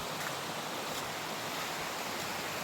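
A waterfall by a rocky road in the mountain town of Rakhiv roars as a dense, steady broadband wash of falling water, with no voices.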